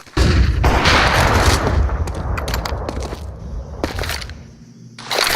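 A flashbang grenade detonates during a Counter-Strike 2 match, a loud sharp burst followed by a sustained roar and crackle with several quick gunfire-like bangs, then a fresh loud hit at the end.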